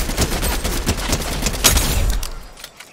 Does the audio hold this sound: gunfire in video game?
yes